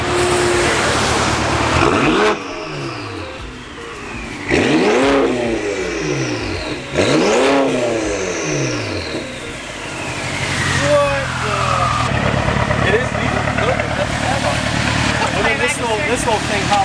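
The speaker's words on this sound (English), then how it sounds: "All right, we got a new exhaust set up here." A BMW F30 with a newly fitted exhaust and large tips revs repeatedly in loud, rising-and-falling bursts close by, then settles toward a steadier engine drone; people talk over it.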